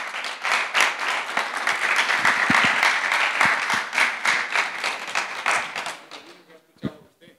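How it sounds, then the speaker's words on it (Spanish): An audience applauds Dr. Aníbal Gaviria at a city and citizenship event, a strong round of clapping that fades out near the end, with some talk mixed in. "Un aplauso, por favor, para el doctor Aníbal Gaviria"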